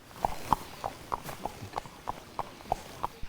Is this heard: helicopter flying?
no